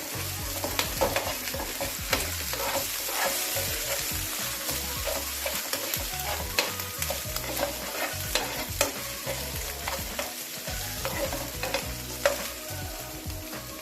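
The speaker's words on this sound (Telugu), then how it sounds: "అల్లం, బాగా ఫ్రై అవ్వాలి." Ginger, with garlic, sizzling and being stirred in a hot frying pan while cooking gobi manchurian, a steady loud crackle with irregular scraping stirs throughout, no voices.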